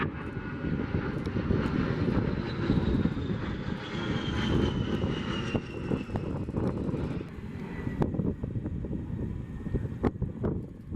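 An A-10 Warthog attack jet makes a loud, sustained engine roar as it flies over the Oshkosh AirVenture airshow, with a whistling whine sliding downward in pitch as it passes. Wind buffets the microphone throughout.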